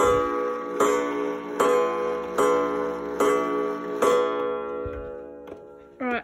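An antique New Haven/Jerome OGEE clock ticks evenly in beat, about six loud, close, ringing ticks at a steady rhythm, each followed by a metallic resonance, ending with a brief clatter.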